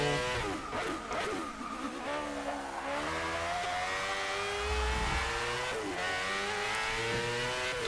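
A race car's engine from the cockpit in Forza Motorsport 6, loud and close, revving up and down through repeated gear changes with rising and falling pitch, no voices over it.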